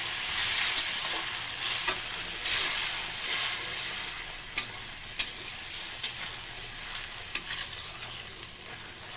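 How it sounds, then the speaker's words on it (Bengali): Potatoes and pointed gourd being sautéed in hot oil for a Bengali vegetarian curry, with a steady bright sizzle and occasional clicks of a spatula stirring the pan, close and continuous with no talk. "গরম জলটা দিয়ে খুব ভালো করে কষিয়ে নেবো"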